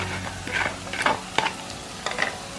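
Green chilli and curry leaf paste stirred with gravy in a pan, a soft steady sizzle with a few sharp spatula scrapes, close by.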